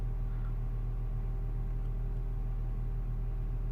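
Mini One R56 with a 1.6 engine idling just after a cold start, revs held slightly raised: a steady low hum and drone, even and continuous, with no talking.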